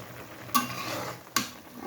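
A spoon scrapes twice through shrimp and water lily curry in a pan, two short, clear strokes about a second apart over a quiet background.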